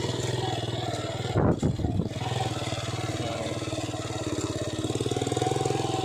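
A motorcycle engine runs hard at speed with a continuous close drone and a brief rough burst partway through, then steady throbbing that swells toward the end.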